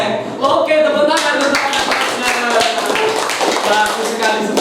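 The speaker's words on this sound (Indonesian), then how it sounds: "Oke, tepuk tangan." A class of students clapping their hands together, dense and rhythmic, a steady run of taps that fills the room at close range with no talking over it.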